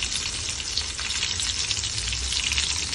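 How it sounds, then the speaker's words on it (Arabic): Eggplant slices frying in hot oil, a dense, steady crackling sizzle close by, bright and continuous with no talk over it. "الزيت عندي سخون مزيان غادي نعملها في الزيت"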